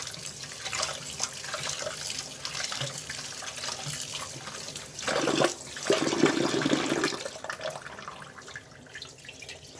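Water is poured off and drained from washed flattened rice (poha, avalakki), a soft, steady trickle that swells into a louder gush midway before settling back, close and quiet, with no talking.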